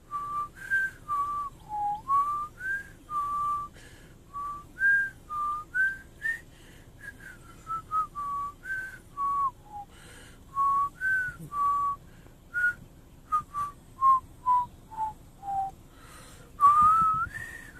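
A person whistles a meandering tune alone, phrase after phrase of clear sliding notes with brief breaths between them.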